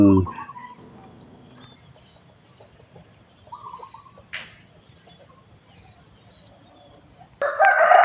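A rooster crows loudly at the start and again at the end, with soft chicken clucks and quiet rustling in between, outdoors at a temple in the morning.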